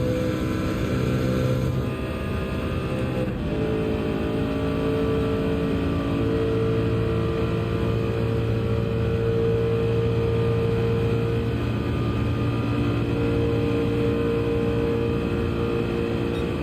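A Sauber racing car in Gran Turismo 7 at Circuit de la Sarthe, Le Mans, drones on at high revs, its engine note steady and loud for the whole stretch with a few shifts in pitch.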